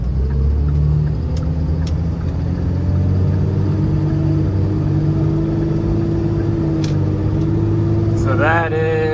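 A Cummins-swapped Ford truck towing a trailer accelerates at about 30% throttle, a loud, steady diesel drone with a rising tone and a brief voice near the end.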